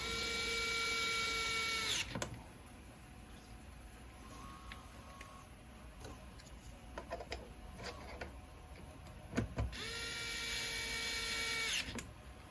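A small electric driver whirs at a high pitch in two bursts at start and end, driving M3x10 bolts into a frame extension bracket on a CEN Racing F450 model truck, with faint clicks and handling noises between.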